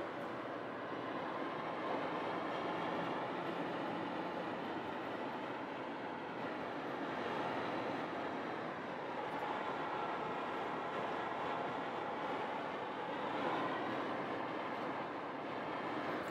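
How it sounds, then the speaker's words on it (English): Steady broadband roar of wind and road noise inside a 2021 Toyota RAV4 at 55 to 60 mph, constant and fairly loud with no voices. "Let's see if you can hear the wind noise"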